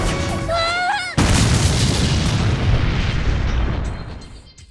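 A touch bomb in a film detonates with a sudden loud, close boom that rolls into a long rumbling decay, following a brief tonal sound before the blast.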